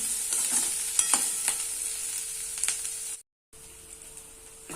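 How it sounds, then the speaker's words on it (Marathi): Onions sauté in a pan until golden: a continuous hissing sizzle broken by occasional scraping stirs, cut by a brief moment of silence before the frying resumes. "कांदे जोपर्यंत थोडेसे गोल्डन होत नाही तोपर्यंत आपल्याला यांना व्यवस्थित परतून घ्यायचं आहे।"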